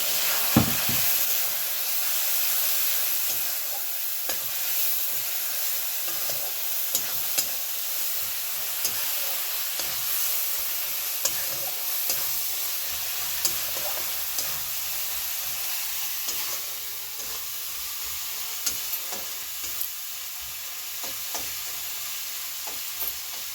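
Cumin, coriander and chilli powder fry in a pan for a new-potato curry as a little water goes in, giving a steady hissing sizzle with occasional soft clicks of stirring and no talk.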